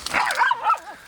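A small dog gives a short yappy bark followed by a brief whimpering whine, close and fairly loud, lasting about a second with no talking.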